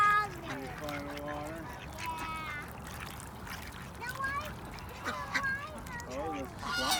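Ducks and geese being fed at a pond honk and quack repeatedly at close range, nasal calls overlapping throughout while people talk over them.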